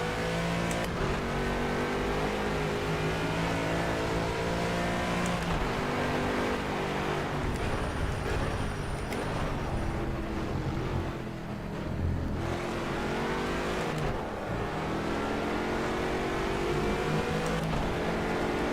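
Aston Martin V8 Vantage GT4 race car engine in Project CARS at Zolder, droning loudly and continuously for the whole clip with rising and falling revs through gear changes, no talk over it.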